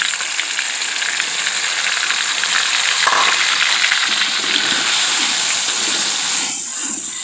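Chili being added to hot oil with golden fried shallots, a loud steady sizzle and crackle of frying that holds throughout, with a brief stirring scrape near the middle and the hiss easing slightly at the end.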